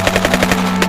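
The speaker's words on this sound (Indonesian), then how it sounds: "Suara tembakan" A rapid burst of machine-gun fire, loud and close, the shots coming in a fast, even rhythm with no pause for just under a second.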